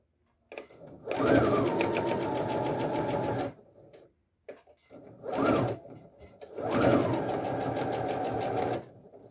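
Sewing machine stitching a seam on a small fabric phone and card holder, running in three loud, steady whirring bursts close by, with short pauses between them and no talk.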